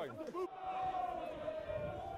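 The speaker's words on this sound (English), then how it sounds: "The crowd now finding their voice, cheering on their team" A rugby crowd at a Moseley versus Sale FC match roars and cheers in a sustained swell, with a voice calling out at the start.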